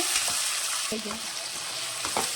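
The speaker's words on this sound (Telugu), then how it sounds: "ఇదిగోండి టమాటాలు చక్కగా మనకి మగ్గిపోతున్నాయండి" Chopped tomatoes and onions simmer and sizzle in a pan for a Telugu bitter gourd curry, with steady broadband frying hiss and a few clattering spoon strokes as they are stirred.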